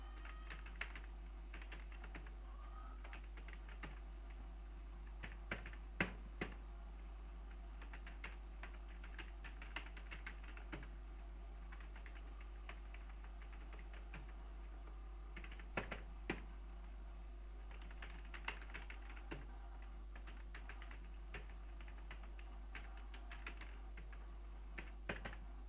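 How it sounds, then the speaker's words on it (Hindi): Steady typing on a computer keyboard while entering text in Microsoft Word, with quiet, rapid key clicks and occasional louder keystrokes over a low hum, and no talking. "टाइप कर लेना है इस तरह से।"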